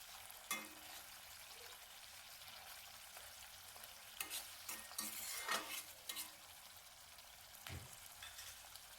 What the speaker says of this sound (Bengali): এবার এটাকে কিছুক্ষণ ফুটিয়ে নেব।